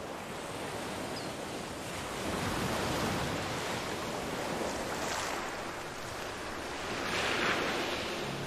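Sea waves washing onto the southern shore of a vast inland sea in Jurassic World Evolution 2, a steady broadband surf roar that swells gently in a few slow surges, with some wind noise and no voices.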